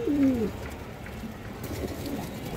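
A single clear, loud coo from a domestic fancy pigeon opens the moment, followed by fainter, softer cooing amid steady room noise.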